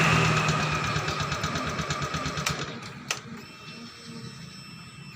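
A Honda Beat scooter engine ticking over at idle with a fast, even mechanical chatter, close and steady, with a couple of sharp clicks partway through.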